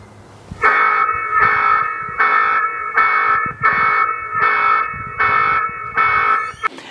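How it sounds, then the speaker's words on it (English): A Winees F2 Pro floodlight camera's security siren blares in loud, rapid repeating electronic pulses, about eight even bursts at close range, stopping abruptly at the end. "The F2 Pro features a very powerful security siren that can reach up to 110 decibels."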